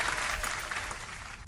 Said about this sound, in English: We'll give the applause to Harry Frog there